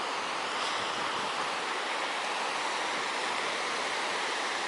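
A river flows through the town of Steyr, Austria, as a steady broadband rush of water with no break, fairly loud and close, and no voices over it.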